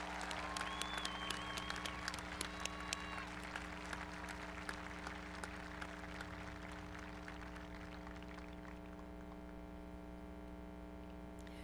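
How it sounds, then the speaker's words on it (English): Applause from a commencement ceremony audience for the Class of 2023 graduates, a faint, continuous patter of clapping over a steady electrical hum that thins toward the end. "Please join me in a round of applause for our distinguished graduates."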